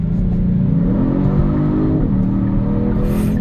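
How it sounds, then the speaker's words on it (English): A 2024 Genesis G70 sports car engine drones loudly at close range in Sport Plus mode, its pitch blipping and shifting as revs jump on downshifts. "Downshift, downshift."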